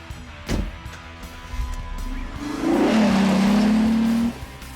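A Borla performance exhaust on a Ford F100 truck rises as the engine revs up hard, holding a loud, steady drone for about two seconds before dropping off.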